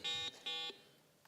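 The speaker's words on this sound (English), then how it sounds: "let's check your buzzer" A quiz bowl buzzer is tested at a competition, giving two loud, steady electronic tones, each about a quarter second long, separated by a short gap.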